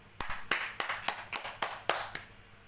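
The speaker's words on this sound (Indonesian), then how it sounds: "Tepuk tangan, Jon." Several sharp hand claps in an uneven sequence, about eight in under three seconds, fairly close and alone in a quiet classroom.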